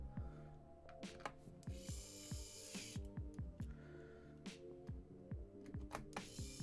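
An electric screwdriver drives screws into a mechanical keyboard, giving repeated short whirring bursts with ratchety clicks and small plastic taps, fairly close and steady throughout.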